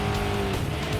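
A Ford Mustang Group 4 race car in Gran Turismo Sport roars steadily at high revs with tire noise, loud and close, in a short continuous burst.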